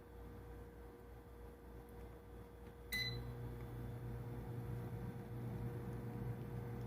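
An air fryer runs with a low, steady mechanical hum throughout, stepping up slightly louder after a brief click partway through, then continuing as a quiet, even drone.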